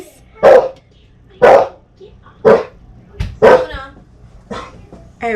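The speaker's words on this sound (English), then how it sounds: "Can we get the dog to stop barking" A dog barks five times in a steady rhythm, sharp and close, roughly one bark per second.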